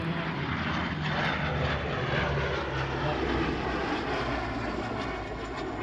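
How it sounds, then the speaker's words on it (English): Loud, steady drone of the propeller engines of a de Havilland Canada DHC-4 Caribou cargo aircraft at an airshow, a continuous deep rumble with a buzzing tone, close by and unbroken throughout. "a rugged short takeoff and landing cargo aircraft"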